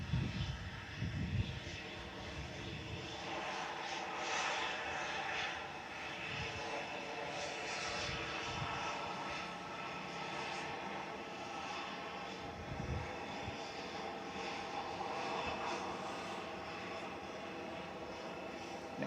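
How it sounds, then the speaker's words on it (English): Singapore airliner pushing back and taxiing at Manchester Airport, a steady broad jet engine roar held at moderate distance throughout, with faint ambient noise around it and no one talking. "So Singapore's pushing back. That'll be taxiing out in a minute or so."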